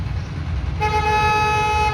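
A car horn blares in one long, loud continuous honk on a Toronto street by Lakeshore Boulevard West, over low traffic rumble.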